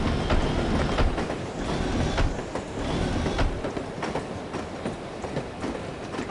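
A train ride in the video game No One Lives Forever: steady loud rumble of rolling railcars with rhythmic clickety-clack of wheels on track, continuous throughout with no voices.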